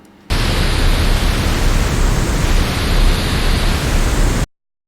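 Synthesized white noise from a drum synth plays as a steady, loud, full-band hiss, starting abruptly and cutting off sharply after about four seconds, with no other sound over it.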